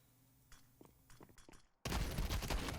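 An automatic shotgun in Counter-Strike 2 fires, heard as a burst of faint scattered shots followed by a sudden loud, dense roar of continuous gunfire that fills the end.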